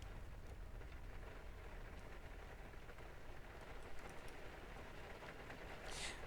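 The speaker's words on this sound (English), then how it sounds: "Did you notice how the rain just sounded like it stopped and it started again?" Simulated rain in the flight game X-Plane 11 hisses steadily as a dense, even patter, with a brief brighter splash near the end.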